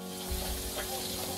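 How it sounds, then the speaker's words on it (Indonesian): Fish fries in a wok in a riverside raft-house kitchen, a dense loud sizzle of hot oil with stirring noises and no pauses. "Okey, kita goreng ikan tadi eh. Agak lama tu. Goreng dia. Goreng garing-garing ya."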